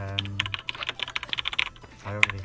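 Rapid clatter of keys on a computer keyboard during a live coding session, with a dense burst of keystrokes that pauses briefly and then resumes, close and fairly loud.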